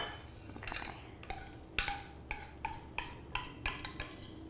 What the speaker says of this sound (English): I'm going to transfer it into a mixing bowl.